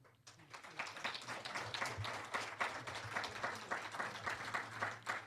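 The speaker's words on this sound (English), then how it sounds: "I wasn't expecting applause" An audience at a secular activism summit breaks into applause, starting thin and swelling into a steady, moderately distant clatter of many hands clapping that carries on with no talk.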